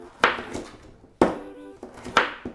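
Carrots being chopped with a knife on a chopping board, three sharp separate knocks about a second apart, close and fairly quiet, with no talking.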